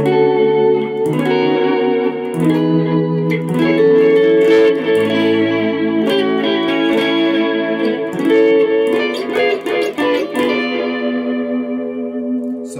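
Electric guitar runs through the clean channel of a Marshall JVM205H head with compressor, chorus, delay and reverb, a loud, sustained clean chord phrase that swells and rings out with echoing repeats, played alone without speech.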